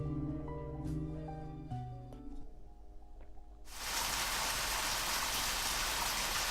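Soft synth music plays, then a sudden heavy downpour of video game rain, from Deadly Premonition: Director's Cut, swells in and drowns it, a loud steady hiss continuing to the end.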